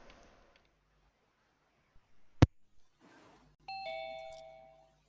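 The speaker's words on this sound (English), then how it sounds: "Ding dong." A doorbell rings once with a clear two-note ding-dong chime that rings out and decays, after a sharp click and a few faint rustling sounds.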